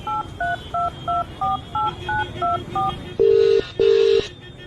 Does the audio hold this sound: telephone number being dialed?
yes